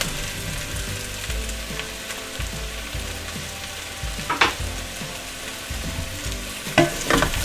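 Sausage and meatballs from Christmas leftovers sizzle in a pan of pyttipanna, a loud, steady close-up crackle with a few sharper pops and stirring scrapes, no voices.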